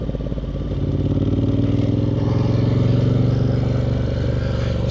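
A Ducati Monster 1200 S motorcycle, fitted with Brembo brakes, ridden on the road, its engine giving a loud, steady throbbing drone that holds a constant pitch and swells slightly midway, with wind noise and no talking.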